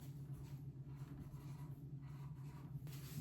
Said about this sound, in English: I need to write it all on the board.